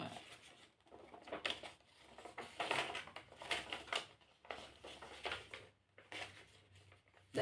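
Sheet of paper folded into fifths for a maths lesson, giving a run of crisp, crinkling rustles and soft creasing bursts close to the microphone, with brief pauses between folds and no talking.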